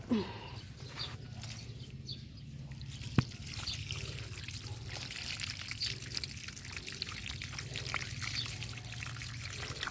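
Water trickles and splashes steadily while freshly picked garden cucumbers are rinsed, a continuous close running-water wash with small drips throughout.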